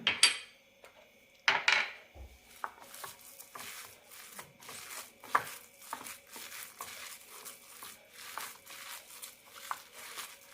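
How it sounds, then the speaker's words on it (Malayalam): Chopped onion, chili powder and fennel seeds being stirred by hand into a chana dal vada batter, with intermittent wet squelching, scraping and clinking of a bowl in close, uneven bursts. "സവാള അരിഞ്ഞത് കാൽ ടീസ്പൂൺ വീതം മുളക് പൊടിയും വലിയ ജീരകവും നന്നായി മിക്സ് ചെയ്യാം"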